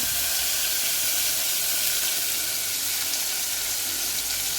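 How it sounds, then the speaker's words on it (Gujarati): Chopped tomato, green chilli and lemon juice hit hot tempering oil with asafoetida for a Gujarati dry potato bhaji, giving off a loud, continuous steamy hiss and sizzle close up. "હવે આપણે લીંબુ નાખીશું અને કટ કરેલું ટમેટું મરચું અને લીંબુનો રસ નાખીશું"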